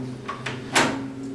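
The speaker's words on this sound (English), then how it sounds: "If you close the door, it will close." An old wooden bathroom door in a mansion's servant quarters swings shut, a few soft creaks and bumps ending in a louder close, near and alone.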